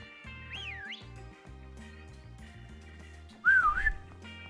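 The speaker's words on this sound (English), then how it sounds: "That was a bad whistle." Someone whistles badly in two short wobbly bursts, the second louder and shakier, over steady synthesized video game music from a Pokemon Sword session.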